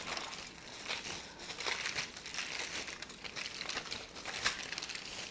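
Plastic bags crinkle and crackle in steady bursts as they are pressed and rolled around a cranberry pecan cheese ball, a close, moderately quiet rustling with no talk.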